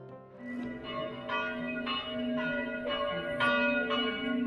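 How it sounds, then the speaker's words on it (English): Church bells toll at a castle in Krakow, Poland, striking in a steady, ringing sequence of bright overlapping peals at moderate distance, with no voices. "The bells they do toll."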